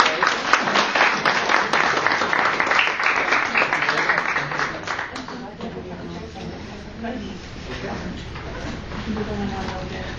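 A small group claps for a husband and wife who are mini-gastric bypass patients. The dense applause is loud for about five seconds, then thins out as people talk over it.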